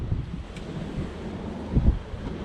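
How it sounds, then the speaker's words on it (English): Strong gusting wind buffets the microphone outdoors on a hotel patio in Mykonos, Greece, a steady low roar with a louder gust near the end and no talking. "you need to put them on a clothesline because it is super windy out."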